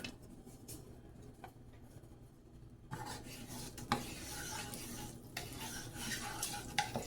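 Flour stirred into melted butter in a pan to make a roux, quiet scraping and light sizzling that grows louder partway through, with spoon clinks against the pan and no talking.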